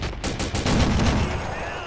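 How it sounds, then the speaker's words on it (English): A .50 cal machine gun fires in the war video game Men of War: Assault Squad 2, a short burst of loud, rapid, sharp shots with a voice talking over it. "Hit fire the 50 cal."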